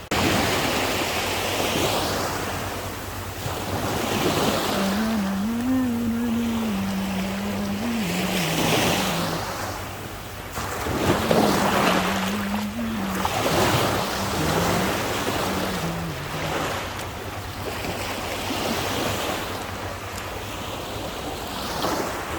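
Sea waves wash onto a beach shore in a continuous broad roar that swells and recedes every few seconds, with a low tone drifting faintly underneath and no voices.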